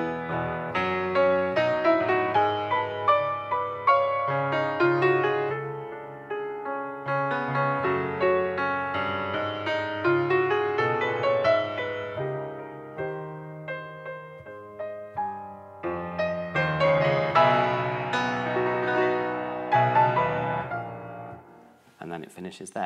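Solo piano plays a reduction of an orchestral film theme, a flowing melody over busy chordal accompaniment with a brief quieter passage midway before building again, close and without talk.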